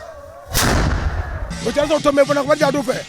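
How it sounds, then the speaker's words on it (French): A traditional powder cannon fires at a Diola ceremony, giving one loud, close blast that rumbles away. Voices rise and chant or sing soon after. "Les bruits de canon que vous entendez font partie de la culture Diola"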